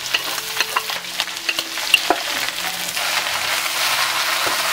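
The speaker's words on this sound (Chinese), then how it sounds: "将葱姜炒香，炒香之后下入配菜" Scallion, ginger and side vegetables stir-fried in a wok with pork ribs, a close hiss of sizzling oil broken by quick scraping clacks of a spatula, tapering into steady frying.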